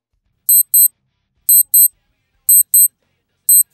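A Casio Protrek PRW-3000 watch alarm goes off: pairs of thin, high electronic beeps repeat about once a second, crisp and close, with nothing else heard.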